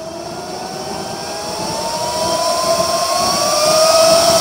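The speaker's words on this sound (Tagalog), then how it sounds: "So open natin yung ating blower." A small 12-volt blower powered by a power bank runs steadily close by, its whine rising slowly in pitch as it speeds up over a broad airy rush, with no talking.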